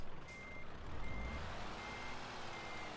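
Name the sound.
truck reversing in Euro Truck Simulator video game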